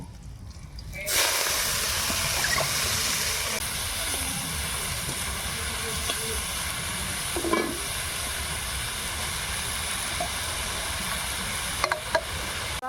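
Pea greens and spinach dropped into hot oil tempered with radhuni and garlic in a kadai set off a sudden loud hiss of sizzling that holds steady throughout, broken by a few soft clinks of stirring.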